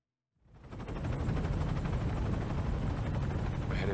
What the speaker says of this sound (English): we're now immediately back on the exfiltration chopper